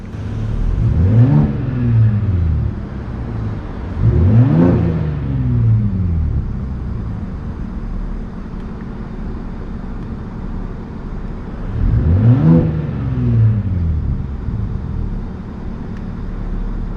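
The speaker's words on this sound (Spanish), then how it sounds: "a acelerar en los diferentes niveles que ofrece el sistema de sonido del escape" A 2021 Ford Raptor revs through its selectable exhaust sound modes, producing three loud, deep rising-and-falling engine surges over a constant low idle rumble, close by with no voices.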